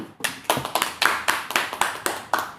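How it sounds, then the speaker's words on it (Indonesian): A classroom group claps in a quick, patterned rhythm, about nine crisp, close hand claps in short bursts, with no talk over them. "Tepuk tangan dulu."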